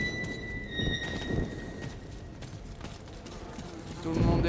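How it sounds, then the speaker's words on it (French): Footsteps in the video game Metro Last Light Redux, a soft irregular patter of steps mixed with game ambience and clanking, picking up louder toward the end. "les bruits de pas qu'on entend."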